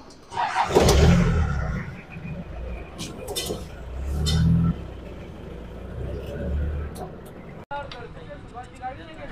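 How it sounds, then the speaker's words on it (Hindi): An old Jeep with a wobbling problem is driven and parked, its engine rumbling and revving loudly at first, then idling lower with clinks and knocks, while someone talks over it. "तो पहले तो मैं मेरा गाड़ी पार्क करके आ जाता हूँ"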